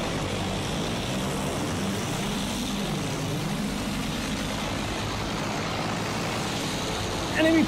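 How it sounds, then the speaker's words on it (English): An enemy propeller-driven fixed-wing plane in a war video game roars past, its engine drone rising and falling in pitch as it flies by, steady and fairly loud over battlefield ambience. "Enemy plane! See it?"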